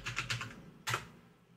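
Computer keyboard keys typed in a short burst of several quick taps, then a single louder keystroke, close and clear with no voices.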